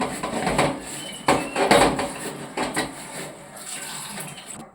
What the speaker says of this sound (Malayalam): ബിരിയാണി ആക്കിയതിലെ പാത്രം കഴുകി എടുക്കുന്നുണ്ട്.